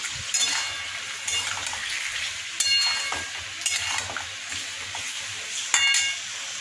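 Potato and pointed gourd fry with spice paste in a pan, a steady close sizzle with repeated scraping stirs and light clinks from the pan.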